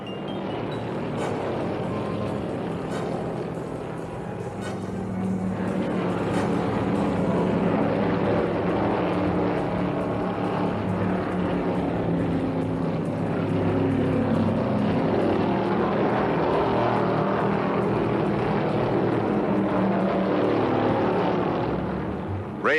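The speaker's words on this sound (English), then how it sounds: "Bobby spun that Dodge all the way around, but he keeps it out of trouble and may head for the pits for new rubber." Stock cars roar around the Riverside road course in a 1971 NASCAR race with a spinning Dodge, heard as a continuous, distant engine drone with a few tonal passes over a steady crowd-like hum.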